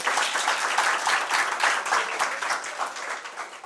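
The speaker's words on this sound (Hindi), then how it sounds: "तो तालियां इनके लिए।" Dense, continuous applause from an audience at a motivational talk for exam aspirants, a steady roar of many hands clapping with slight swells and no talk over it.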